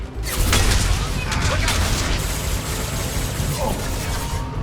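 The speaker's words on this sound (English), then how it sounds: "Firing an impact shot!" Impact shot fired in the Mass Effect 2 video game, a dense, loud burst of gunfire-like blasts and booms filling the clip, with game noise running continuously throughout.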